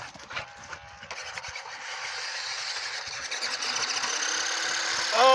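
Rainbrace RC military 6x6 truck straining outdoors among leaves, its small electric motor whining and wheels spinning in a steady, slightly rising buzz with scattered rustling and knocks, no talking.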